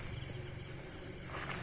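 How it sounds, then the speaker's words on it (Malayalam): Crickets chirp in an unbroken, faint, steady drone at night along a dark road, with no other distinct sounds. "കണ്ടിന്യൂസ് ആയിട്ട് ചീവിന് ശബ്ദം കേൾക്കുന്നുണ്ട്."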